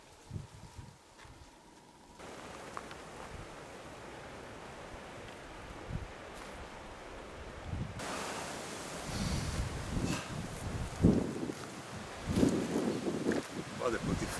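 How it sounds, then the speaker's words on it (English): Strong outdoor wind, a broad gusting roar that is light at first and then swells louder and rougher, with buffeting surges and voices at times. "Strong wind today, eh?"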